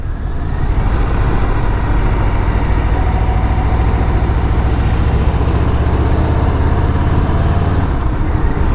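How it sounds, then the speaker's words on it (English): A motorcycle engine runs steadily in a rural farming area near rice and cane fields, a loud, continuous low rumble close by with no talking over it. "Listening to my bike."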